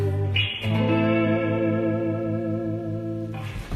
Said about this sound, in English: I usually use a little bit of delay on here, just like a kind of classic like slapback style-y